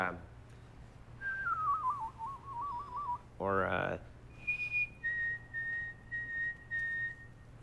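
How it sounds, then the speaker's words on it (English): A person whistles tunes alone, first a wavering warbled melody, then a sharp rising sweep, then a run of steady held notes, with no talk over it. "I had a lot of fun whistling. I would learn whistles like"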